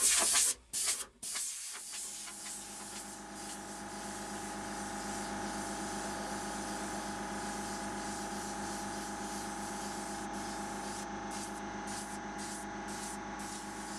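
Airbrush spraying paint onto a T-shirt, a steady close hiss running almost unbroken after a couple of short bursts at the start, with no talk.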